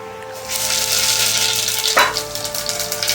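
Cumin seeds sizzle and crackle in hot oil: a dense, steady frying hiss that swells after a brief quiet start, with a sharper spatter partway through.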